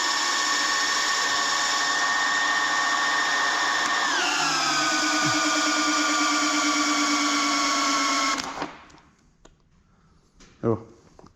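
A cordless drill whines steadily at high speed, dips in pitch midway, then cuts out abruptly, leaving near silence and a brief clunk.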